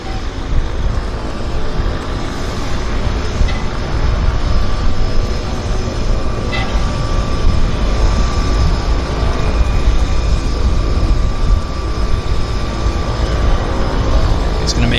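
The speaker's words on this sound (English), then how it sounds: "we'll head over to our departing airplane right there" A floatplane departing Vancouver Harbour gives off a steady, loud engine and propeller drone that holds through the whole stretch over broadband outdoor noise.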